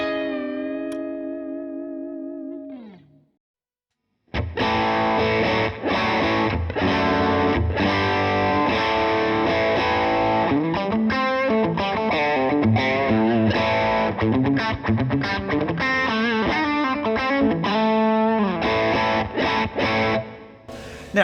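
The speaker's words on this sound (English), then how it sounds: "this is the sound of the Marshall going into an attenuator," A 20-watt Marshall tube amp driven through an attenuator into a speaker cabinet: a fading sustained chord, a brief gap, then a long stretch of loud, overdriven electric guitar chords and riffs with gritty distortion.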